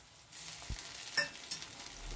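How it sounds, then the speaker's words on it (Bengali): Onion, tomato and slit green chilies sizzle and fry in a pan as they are stirred, a steady close hiss with a couple of soft scraping knocks. "পেঁয়াজ, টমেটো, কাঁচা লঙ্কা এগুলোকে আমি একটু ভালো করে নেড়ে চেড়ে দিচ্ছি।"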